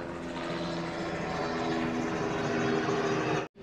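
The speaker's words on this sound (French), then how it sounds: "On a un hélicoptère." A helicopter flies overhead at a bamboo villa hotel in Bali, its steady rotor drone loud and continuous for about three and a half seconds before cutting off abruptly.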